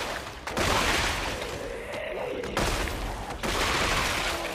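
Weapon fire in the Dead Space 3 video game: loud sustained bursts of rapid gunfire in three main stretches separated by brief drops, dense and close.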